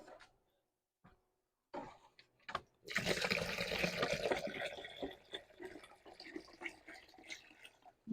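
Water poured into a container while sowing seedlings, arriving as a sustained splashing, gurgling pour of several seconds after a few short knocks and handling noises, close and moderately loud.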